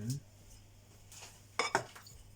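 A spoon knocks and scrapes in a cooking pot while mixing prawns, a few sharp metallic clinks near the end amid quiet kitchen room tone.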